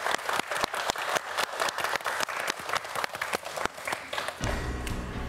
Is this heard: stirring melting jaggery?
no